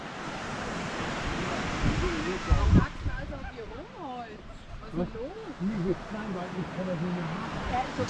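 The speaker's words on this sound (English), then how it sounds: "I do like the sound of waves crashing against the beach" Waves breaking on a Mediterranean beach at Cala Millor, Mallorca, heard as repeated rushes of surf with wind buffeting the microphone. Someone talks over much of it.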